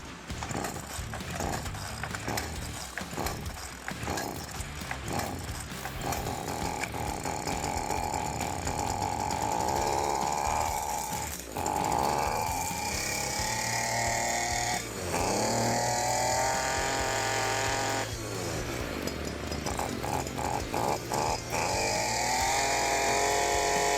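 A STIHL FS40C gas string trimmer, slightly flooded, runs loud and close after starting, with its small two-stroke engine droning continuously and the pitch rising and dipping as the throttle changes.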